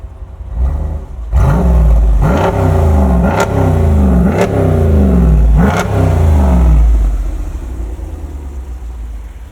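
A throaty V8 engine in a 2024 Jeep Wrangler 392 revs repeatedly through its exhaust in about five quick bursts, each rising and falling, before easing back to a rumbling idle.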